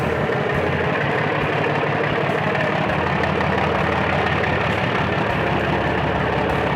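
A double-engine passenger launch with twin silencers on the run from Bhasanchar to Dhaka produces a loud, continuous low engine drone that stays steady throughout with no talk.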